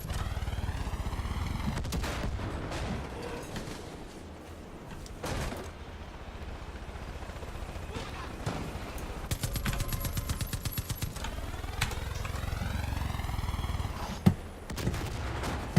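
Sniper gunfire in a PC shooter game, a run of sharp shots and bursts spread over a steady loud backdrop of game noise and effects, with a rapid clattering stretch near the middle.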